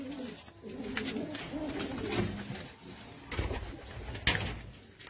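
A pet pigeon, a two-year-old racing bird with a closed tail, coos in low repeated throaty phrases close by, with a sharp brief knock near the end.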